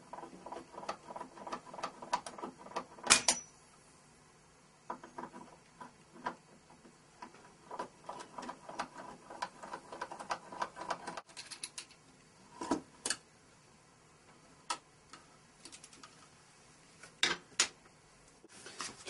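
Screws being removed from an RV electric plug housing: quiet, close, irregular ticking and scraping clicks from a screwdriver tip, scattered over a faint background with no talking.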